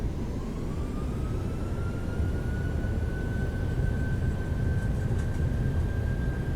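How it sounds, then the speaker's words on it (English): Simulated PMDG 737 engines spooling to takeoff thrust in Microsoft Flight Simulator 2020, a loud steady jet roar with a rising whine that climbs and holds throughout, no voices over it. "Increase thrust. Stable, take off."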